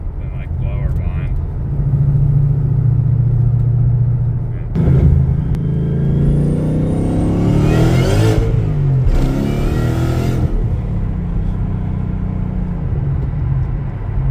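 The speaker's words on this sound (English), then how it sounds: "So that was the Foster Sound Mod whine for my 2011 Mustang GT with the VMP gen2r blower." A 2011 Mustang GT with a VMP Gen2R supercharger and Foster sound mod revs up, its engine rumble climbing with a rising supercharger whine and induction noise, loud and close, sweeping up and falling back several times.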